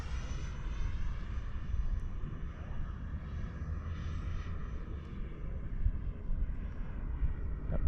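An FMS Yak-130 RC model jet flies inverted with a steady, continuous whooshing whine that holds at an even moderate level throughout, without breaks.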